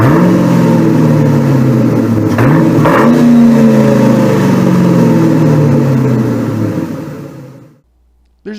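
A 2003 Mustang GT convertible's 4.6-liter two-valve modular V8 revs loudly up close, climbing and falling in a few throaty sweeps before the engine note cuts off into silence.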